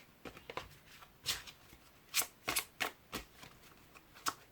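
Tarot cards being shuffled by hand, a series of soft riffling flicks and slaps in uneven bursts, close and fairly quiet in a still room.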